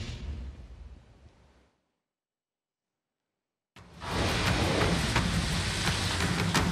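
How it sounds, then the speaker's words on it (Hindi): Monsoon rain falling in a broadband steady wash that fades out, drops to silence, then returns loud and dense, a heavy continuous downpour close by with no voices. "मानसून की बारिशें जारी हैं"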